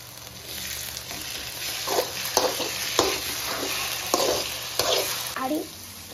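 Ginger garlic paste fries with onions in hot oil in a pan, a constant sizzle broken by repeated scraping stirs of a spoon at an irregular rhythm, fairly close and clear.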